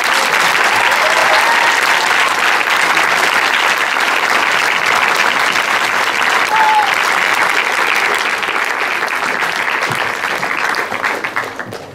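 A large audience at a high-school eloquence contest final at Lycée François-Villon applauds a candidate loudly and continuously, with crowd noise mixed in and the clapping thinning slightly near the end.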